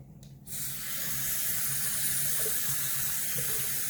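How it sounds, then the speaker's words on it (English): A bathroom sink drains after shaving, a steady close hiss and rush of running water starting abruptly and continuing evenly, with no voices. "Let's let some of the water out."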